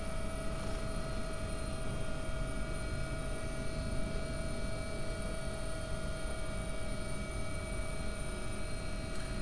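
Steady, continuous rotor and turbine drone of an AW-139 air ambulance helicopter in a flight simulator game, holding at an even level throughout with a whine over a dense low rumble.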